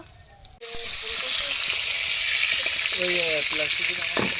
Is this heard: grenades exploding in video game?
no